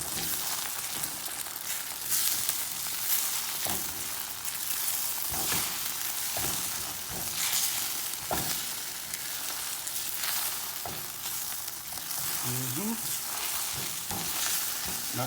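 Eggs with cheese scrambled in a hot pan, with a steady sizzle and scraping, stirring strokes throughout, fairly close and moderately loud with no talking.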